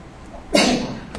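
A single sharp sneeze bursts out midway through a quiet classroom lull, loud and close, with a short noisy tail fading afterward.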